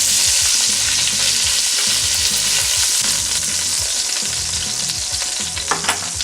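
Beef ribs sear loudly in a hot pan, a dense, bright continuous sizzle with occasional shifting and scraping as the meat browns, close-up and steady with no voices.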